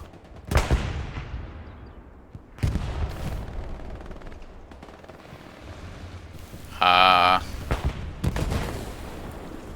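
A large mounted gun in the Hell Let Loose war game fires a few heavy booms spaced seconds apart, each trailing into a rumbling decay, with a brief harsh mechanical whine between shots and a voice talking underneath.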